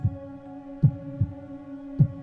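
Heavy, booming heartbeat in a horror audio drama, paired thumps repeating at a slow steady pace, loud and close over a low sustained drone, with no talking.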